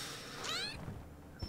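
A cartoon cat in the VR card game Exploding Kittens lets out a single clear, rising-and-falling meow, loud and close, followed by a brief soft click.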